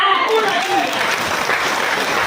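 Congregation applause at a church sermon, a short burst of dense clapping that swells and holds, with a voice briefly heard at the start.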